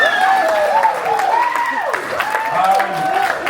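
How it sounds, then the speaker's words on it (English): An audience at a Tongan 21st birthday and farewell party applauds a performing group, with loud clapping mixed with whoops and cheering voices throughout. "give it a round of applause for our boys all the way from Logan"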